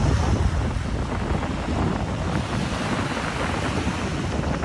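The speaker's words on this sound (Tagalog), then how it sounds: "malakas ang alon, malakas ang hangin" Strong waves surge and churn along the Manila Bay shore in stormy weather, with heavy wind buffeting the microphone into a loud, continuous, dense roar and no voices.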